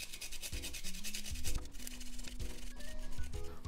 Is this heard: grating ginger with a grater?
yes